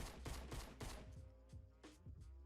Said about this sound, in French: restez immobile et vous allez voir que vos balles sont beaucoup plus précises